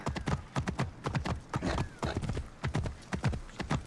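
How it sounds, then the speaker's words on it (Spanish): Horse hooves clip-clop in a steady, quick rhythm as a horse is ridden through Alexandria in Assassin's Creed Origins, loud and close, with faint game ambience beneath. "Y vamos a ir... En caballo, porque Aya tiene su propio caballo."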